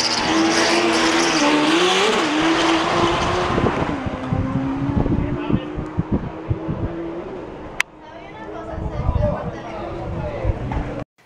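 Motorcycle engines roar and rev at high pitch during drag racing at Autódromo La Chinita in Maracaibo, then fade as the bikes pull away, with wind buffeting the microphone and a voice talking over it.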